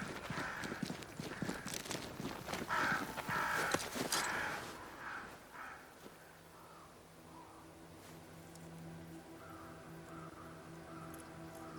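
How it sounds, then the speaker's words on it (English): Crows caw in a few harsh, repeated calls in Banishers: Ghosts of New Eden, heard early among footstep-like clopping before things settle into quieter ambience. "Crows."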